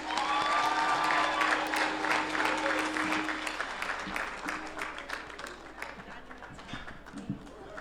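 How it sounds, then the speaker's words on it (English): A university graduation crowd applauds the valedictorian; loud, dense clapping with a sustained cheer or vocal tone early on, gradually thinning into looser, scattered claps. "Another round of applause for our valedictorian."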